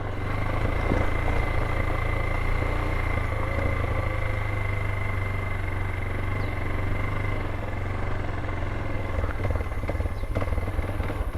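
Adventure motorcycle engine running steadily as it rides onto a bridge in Central America, a constant loud droning hum with faint clatter throughout, no voices.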